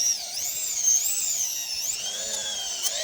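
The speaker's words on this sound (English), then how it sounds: "now we're going to work on polishing up the edges" High-pitched whine of a power tool polishing the edges of an installed piece, the motor pitch wavering up and down as it is worked, steady and fairly close with no talking.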